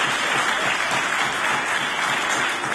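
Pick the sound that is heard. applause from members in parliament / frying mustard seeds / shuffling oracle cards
applause from members in parliament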